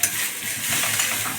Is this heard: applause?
no